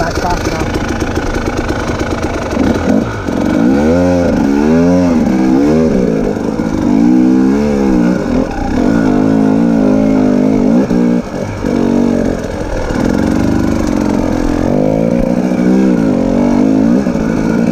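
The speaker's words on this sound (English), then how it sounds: "So just rev it up and just pop the clutch and get back fast enough." A motorcycle engine is revved hard with the clutch popped, the loud engine note rising and falling in repeated surges over a steady running drone, heard up close throughout.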